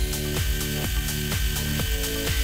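A lathe hums steadily while a cutting tool makes a facing cut on mild steel, scraping in regular, repeating pulses about twice per second, close and fairly loud.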